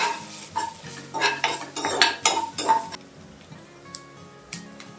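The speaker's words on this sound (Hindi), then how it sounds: "मागीर लसूण घालपाची आनी ती बीन तशीच हिरवे मिरसांगे बरोबर फ्राय करपाची." Garlic and beans frying with green chillies in a pan, heard as stirring and scraping clatter of utensil against pan for about three seconds, then softer scattered clinks and a quiet background sizzle, no talk.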